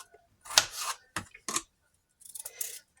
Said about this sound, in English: so now I'm just going to, like I say, cut them into smaller chunks